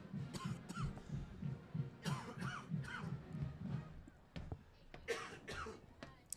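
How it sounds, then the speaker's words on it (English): A sports commentator on a high school football live stream coughs repeatedly into the microphone, a series of close, rhythmic throaty coughs, then trails off into a few brief louder bursts. "excuse me there as I cough"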